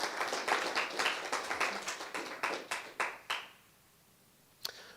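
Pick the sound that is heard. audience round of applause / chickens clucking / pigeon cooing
audience round of applause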